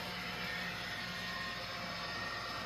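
An MTH Protosound 3 model train locomotive runs at full throttle, a steady broadband whir and motor hum holding at an even level throughout, with no voices.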